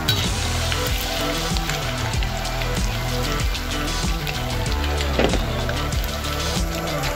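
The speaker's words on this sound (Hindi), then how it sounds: "तो फिर हम इसको तेल में रखेंगे और फटाफट इसको निकाल लेंगे।" Paneer pieces fry in hot oil, a loud, dense, continuous sizzle with bubbling crackle that holds steady throughout and swells briefly near the end.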